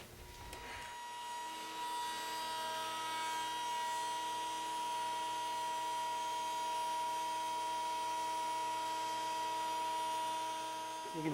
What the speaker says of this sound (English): we're going to plunge the board down onto the spinning bit and then move it forward